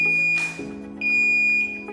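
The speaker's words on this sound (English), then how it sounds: "The alarm light will also flash red and emit a beep as a prompt." A beep from an RFID label print quality inspection system alarm sounds when a label is flagged as faulty. Two steady, high electronic tones come close together over the low hum of the machine.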